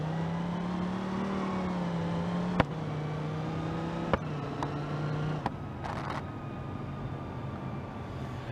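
A quad turbo car engine in BeamNG.Drive, a steady droning hum whose pitch shifts slightly, broken by a few sharp clicks and ticks, with a brief higher whir near the end, no speech.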